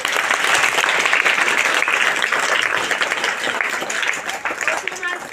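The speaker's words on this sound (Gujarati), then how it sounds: "તાળી પાડો।" A school farewell-day audience claps loudly and steadily to praise a student, the dense applause thinning and tapering off toward the end.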